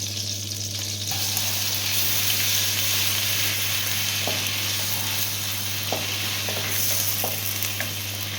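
Ginger garlic paste sizzles steadily in a pan for mushroom curry, a constant close frying hiss with occasional stirring clicks and scrapes.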